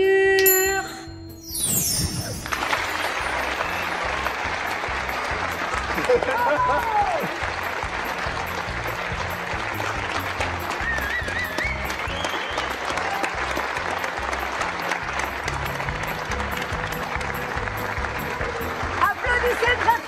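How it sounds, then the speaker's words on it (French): Circus audience applauding loudly, a dense sustained burst of clapping that swells after a brief pause and carries on for the rest of the stretch, with a voice heard briefly at the start. "Applaudissez très fort le grand Mario"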